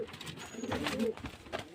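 A pigeon for sale at a bird seller's loft gives one soft, brief coo, fairly faint and heard close by.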